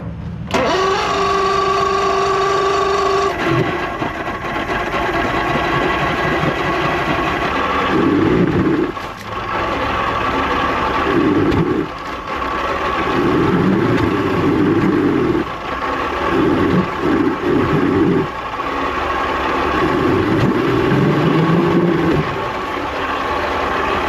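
A Mercury 150 carbureted outboard motor running loud and close, a steady droning idle that surges and dips repeatedly as throttle is given, the revs rising and falling unevenly throughout.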